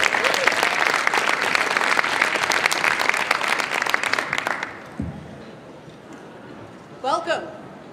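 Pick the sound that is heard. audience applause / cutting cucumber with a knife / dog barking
audience applause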